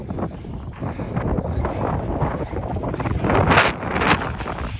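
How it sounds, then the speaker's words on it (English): Wind gusts outdoors in a busy parking lot ahead of incoming snow, a loud steady rush of buffeting against the microphone that swells near the end, with no talking. "the wind's coming in"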